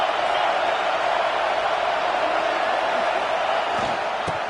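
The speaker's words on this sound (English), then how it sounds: "Listen to this crowd just shaking the girders of this place" A packed football stadium crowd roars in a steady, dense wash of noise that fills the whole space, loud and continuous with no breaks.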